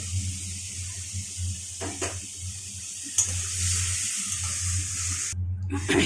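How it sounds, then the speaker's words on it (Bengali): Cumin, coriander and pre-fried potatoes sizzling in a home cook's pan for a fish roe fritter curry, a faint steady frying hiss with occasional utensil clinks and a low hum throughout. "জিরে ধনে সব দিয়ে দিলাম ভেজে রাখা আলুগুলো দিয়ে দিলাম"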